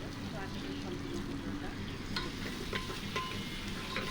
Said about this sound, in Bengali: পেঁয়াজটা এখন আমি তেলটা দিয়ে পেঁয়াজটাকে আমি লাল করে নিব